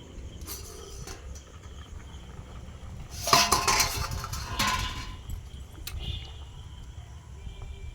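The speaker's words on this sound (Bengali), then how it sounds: "চাপা খুলে দেখে নেব সেদ্ধ হয়েছে কিনা" A metal lid lifted off a cooking pot of simmering soybeans at night gives a short clatter of metal against metal near the middle, with quieter clinks around it over a low kitchen hum.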